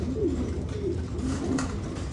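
Pigeons coo softly beside a nest where eggs are hatching, several short rolling coos repeating close by over a steady background hiss.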